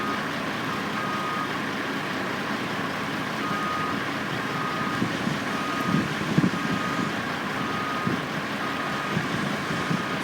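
Trucks at a construction site with cranes nearby, their reversing beeps repeating at a distance over a steady outdoor rumble of engines and wind, with a few faint knocks midway.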